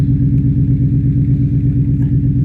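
A Mustang's engine runs at a classic car gathering in Louhans, holding a steady, close, throbbing low rumble with an even pulsing beat and no voices.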